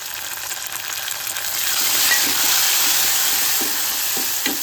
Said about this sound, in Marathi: आता आपण त्याच्यामध्ये टोमॅटो घालूया